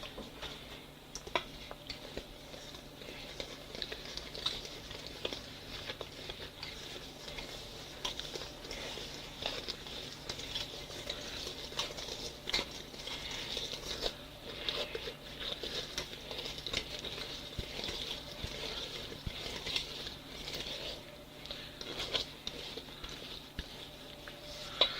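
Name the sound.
stirring cookie dough with vanilla and chocolate chips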